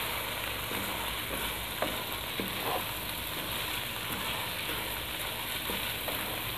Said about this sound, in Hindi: हमने कीमे और अंडे को मिक्स कर लेना है